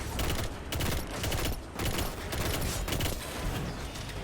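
Rapid gunfire and grenade blasts in the Destiny shooter during a Grandmaster Nightfall, a loud, dense, continuous volley with brief dips.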